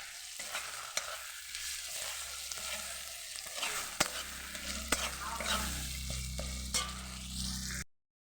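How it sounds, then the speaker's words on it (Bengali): Ginger paste frying in a pan for a vegetarian dish, a quiet continuous sizzle with occasional sharp clicks and scrapes of a spoon stirring, ending abruptly. "এবার আদাটা ভালো করে ভেজে নিয়েছি"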